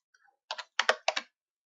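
Several quick keystrokes tap on a computer keyboard in close, crisp clusters of clicks separated by brief silences.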